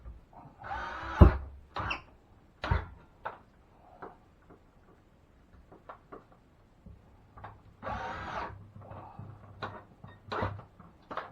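A power drill drives screws into replacement drywall in a tight spot during sheetrock repair of a water-damaged wall, with two short whirring bursts separated by a long pause and scattered light clicks and handling noises.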